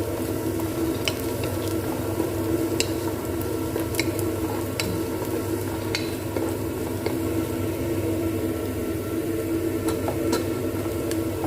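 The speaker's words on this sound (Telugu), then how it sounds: "చూడండి ఎర్రగడ్డలు వేగినాయి, వేగలేదండి ఇంకా కొంచెం ఎర్రగడ్డలు వేగాలి." Onions frying in a pan at a home stove, a steady close sizzle with occasional light scrapes and clicks of stirring, no talk.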